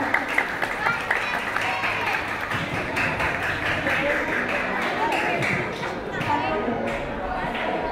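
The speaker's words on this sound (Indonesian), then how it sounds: "Berikan tepuk tangan yang meriah untuk kandidat calon nomor 4." Applause from a school audience for a student council candidate at a madrasah debate, scattered claps mixed with crowd murmur and talking voices throughout, moderately loud.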